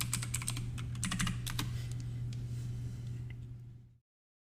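Typing on a computer keyboard sounds as a quick, close run of light clicking keystrokes that gradually thins out and stops, over a faint steady hum, with no voices.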